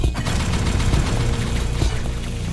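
Gun turrets firing in the Hyper Light Drifter video game during a boss fight, a dense, continuous burst of rapid shots and booms heard on their own.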